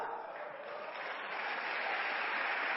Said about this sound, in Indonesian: yang tepuk tangannya keras